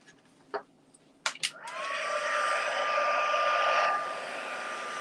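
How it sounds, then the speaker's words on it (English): Embossing heat tool switching on after a few clicks and then blowing hot air in a steady whirring hiss with a thin whine, fairly close, easing slightly near the end. "And I'll just come in and use my heat tool"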